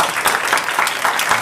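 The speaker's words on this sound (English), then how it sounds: "let's give the candidates a round of applause" Audience applause for school board candidates at a candidate forum, a steady burst of many hands clapping together at close range, filling the whole moment without any talk.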